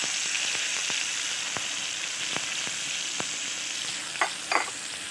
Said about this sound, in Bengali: তেল গরম হয়ে গেছে, কাঁচা লঙ্কা ছাড়ছি,